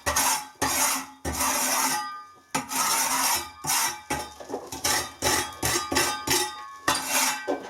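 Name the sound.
scraping loose plaster off a wall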